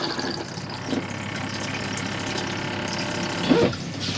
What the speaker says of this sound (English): Then obviously you'd flush after